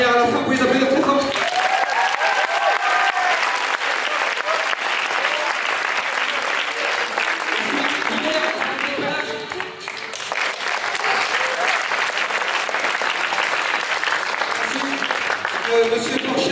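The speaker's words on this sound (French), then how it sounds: "Vous pouvez les applaudir très fort" Loud, sustained applause from an audience at a student stage show, continuous clapping with brief cheers and voices, dipping briefly midway before carrying on.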